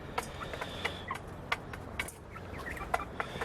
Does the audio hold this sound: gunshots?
no